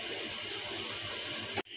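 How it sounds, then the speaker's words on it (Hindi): Tap water runs steadily into a large, deep cooking pot while preparing nalli nihari, a loud continuous gushing stream that cuts off abruptly near the end. "तो मैं तकरीबन 5 कप पानी डालूंगी कि हमारा गोश्त गल जाए।"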